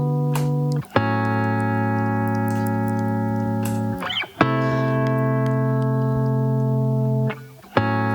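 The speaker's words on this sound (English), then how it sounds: "this is just chords 2 and 3" Two sustained chords from a guitar loop replay through a looper, each held several seconds and separated by short scratchy transitions, steady and up close without speech.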